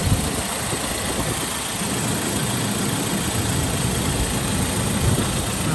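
A Land Rover Defender 110 2.2 TDCi diesel engine idles steadily when warmed up, a constant low rumbling drone with fine vibration and no change in pitch, close by and alone.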